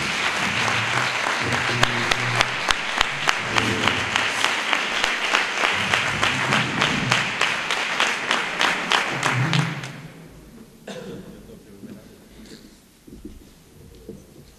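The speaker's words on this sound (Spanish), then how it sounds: "Un fuerte aplauso para él." Audience applauding at a school anniversary gala, sustained dense clapping for about ten seconds with a few individual claps standing out, then tapering off to sparse claps and quiet.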